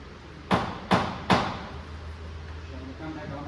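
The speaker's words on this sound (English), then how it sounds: "So if we tap your side a little bit, give me the hammer there." Three sharp hammer taps on BMW E30 333i drivetrain parts during drivetrain separation, evenly spaced and fairly close, over a low steady hum.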